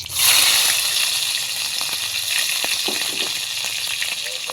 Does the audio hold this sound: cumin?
yes